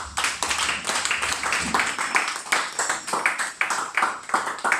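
A church congregation claps in a steady, rhythmic beat during worship, the sharp hand claps dense and continuous, filling the room at moderate loudness.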